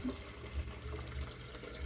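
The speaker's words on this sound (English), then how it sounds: "Then I take my Epic water filter pitcher, fill this one back up." Tap water runs steadily into an Epic water filter pitcher at a kitchen sink, giving a soft, continuous splashing rush that stays close and unbroken.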